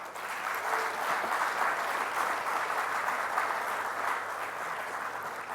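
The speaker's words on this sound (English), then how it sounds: "a loud applause for all the winners here" An audience applauds the winners at the CRN Channel Champions 2010 awards ceremony in India, dense and sustained clapping from a crowd at an even level throughout, with no speech over it.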